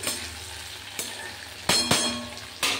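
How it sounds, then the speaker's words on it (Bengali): Flat beans and yardlong beans stir-fry in hot oil with a soft, continuous sizzle, punctuated by a few sharp spatula clacks and scrapes against the pan. "শিমের তরকারি করতে যাব, তার জন্য শিম আর এই বরবটিগুলোকে একটু তেলে নেড়ে নিচ্ছি।"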